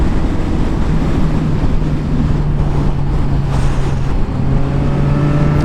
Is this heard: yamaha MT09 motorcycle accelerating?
yes